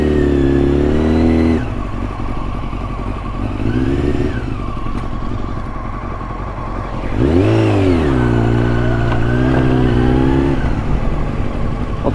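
A KTM-type motorcycle engine runs steadily while riding, a loud continuous drone that rises in pitch around the middle as the rider revs up, then settles into a high, even hum.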